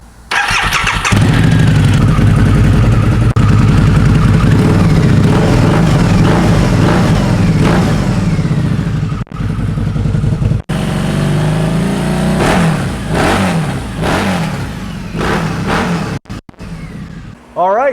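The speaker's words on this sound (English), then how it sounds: "Listen to this beautiful VROD." A Harley-Davidson V-Rod motorcycle engine cranks and catches, then idles loud and close with a deep throb before several sharp throttle blips rev it up and let it fall back.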